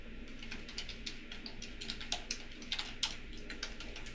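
Fast typing on a computer keyboard produces light, irregular clicks and taps at moderate distance over a steady low background hum, with no talking.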